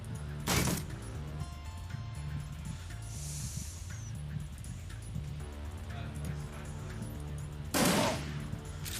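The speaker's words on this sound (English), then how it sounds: "Shotguns!" Shotgun fire in the video game Shadowrun Dragonfall, two sharp blasts about seven seconds apart over a steady game music bed, with faint talk between them.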